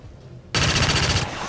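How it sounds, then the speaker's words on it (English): After a quiet moment, a burst of automatic gunfire erupts loud and close in the XCOM 2 tactical game as a soldier takes a headshot, a steady rattling volley lasting under a second. "I'm going to headshot that guy."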